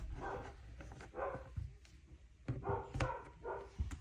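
A dog barks several times in short bursts nearby, with sharp yaps scattered across a few seconds and quieter gaps between them.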